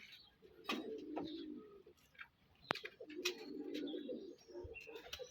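Pigeons cooing near a spot where several birds have gathered, soft repeated low coos running through the clip with a few sharper chirps and clicks between them, no voices.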